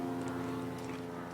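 An airplane drones overhead in a steady, continuous engine hum with a tonal rumble, moderately loud and unbroken through the short stretch.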